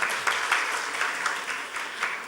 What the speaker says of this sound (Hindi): हमारे यूपीएस के राय साहब ताली बजा रहे हैं